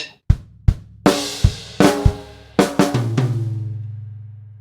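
One bar of a drum piece is played on a drum kit: a handful of sharp snare and tom hits, then a final hit that rings on as a low sustained drone, close and loud.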